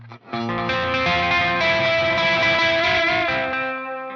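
An electric guitar runs through a Fuzz Imp Furia distortion into an Echo Moon delay set to lo-fi mode, giving one sustained, thick distorted chord with a murky, softened echo wash that fades out at the end.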